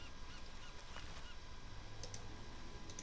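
Birds honking in the Path of Exile video game, a few faint goose-like honks over a low background hum, with a couple of soft clicks, and nobody talking.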